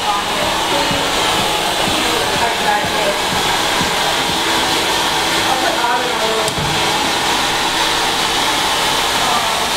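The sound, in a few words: hair dryer drying hair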